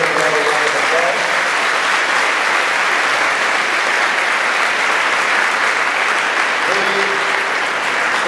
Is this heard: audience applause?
yes